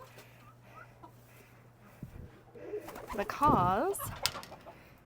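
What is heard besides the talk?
pigeons in a pigeon loft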